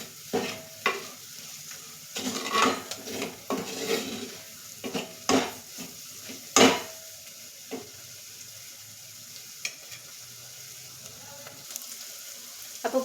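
Spice powders and salt being stirred in a hot pan for sadya-style puli inji, repeated scraping and knocking strokes of a spoon against the pan over a faint sizzle, close and intermittent, no voices.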